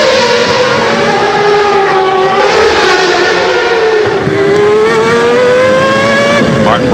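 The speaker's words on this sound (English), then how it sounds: "here we are revving at twice that speed now" A Formula 1 race car engine screams at very high rpm around the Monaco circuit in a 1994 Grand Prix, loud and continuous, its pitch rising and falling through gear changes as the car speeds past.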